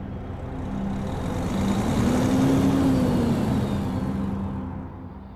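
A truck engine in the Euro Truck Simulator video game rumbles alone, its tone rising and growing louder before easing off and fading.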